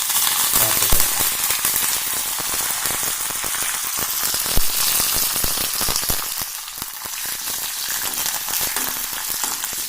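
Curry leaves crackle and sizzle in hot oil as a tempering for mathan pachadi, a steady dense frying hiss with sharp pops lasting throughout, close and loud, no voices.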